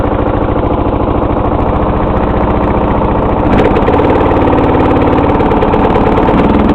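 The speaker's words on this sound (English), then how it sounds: "Here, I'll just throttle it up for you." Briggs & Stratton 16 HP OHV Intek engine idling steadily, then throttled up partway through to a louder, denser running roar that holds until the end, close and continuous with no talk.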